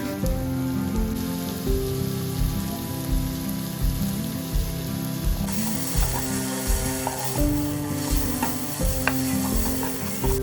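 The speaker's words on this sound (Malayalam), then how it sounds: "ഉള്ളിയെല്ലാം ഒരു ഗോൾഡൻ കളറാകുന്ന വരെ വഴറ്റിയെടുക്കുക." Sliced onions with curry leaves sauté in a pan for a Kerala-style roasted-coconut chicken curry, giving a steady close sizzle with soft scraping stir strokes throughout and no talking.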